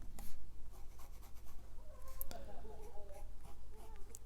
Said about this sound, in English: Reverse writing, little bit more scratchy